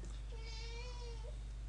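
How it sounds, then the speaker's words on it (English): A pet cat lets out a single drawn-out meow indoors, faint and thin against a low steady hum, with no other sounds around it. "That's my cat. Just ignore him."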